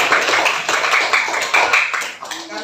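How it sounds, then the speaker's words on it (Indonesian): A classroom of students claps together during an Islamic religious education lesson, a close, lively run of rhythmic hand claps lasting a couple of seconds before a voice begins to speak. "Tepuk tangan dulu semuanya."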